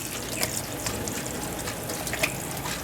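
Tap water runs steadily into a kitchen sink while a lobster is rinsed under it, a soft, fairly faint continuous splash with a few louder spatters and clinks, no talking.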